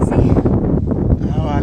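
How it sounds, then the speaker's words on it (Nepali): Strong outdoor wind buffets the microphone, a loud low rumbling roar that fluctuates throughout, with a voice speaking over it. "हावा एकदम धेरै आयो अहिले"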